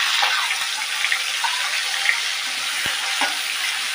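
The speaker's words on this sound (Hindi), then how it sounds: "और इसे अच्छे से भून लेना है चलाते हुए।" Ground spice paste of onion, garlic and ginger fries in oil with a bright, steady sizzle for a brinjal and potato sabzi, while a spoon stirs it with a few soft scrapes and taps.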